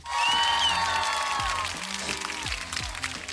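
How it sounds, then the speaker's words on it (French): Applause of a small group bursting in at once, steady for about a second then thinning into scattered claps with music playing along underneath. "On peut m'applaudir."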